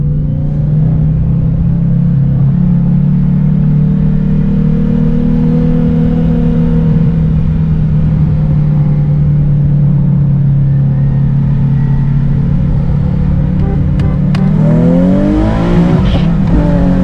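A tuned Infiniti G37 on a 91-octane tune, racing a tuned Subaru WRX STI, holds a loud, steady engine drone that then climbs sharply in pitch as it is pushed hard at full throttle near the end.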